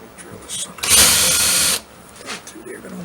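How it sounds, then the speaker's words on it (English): A 3/8-inch power drill bores through a model train layout in one close, loud burst of under a second. Quieter handling noises come before and after it. "Now let me get a 3/8" drill,"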